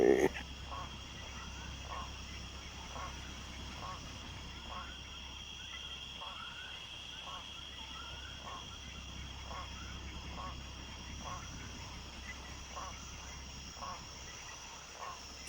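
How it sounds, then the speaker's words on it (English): Frogs croak in a marsh ambience in Jurassic Park: Operation Genesis, a steady series of short rhythmic calls repeating about every second over constant insect-like hum and background noise, with occasional voice. "Frogs."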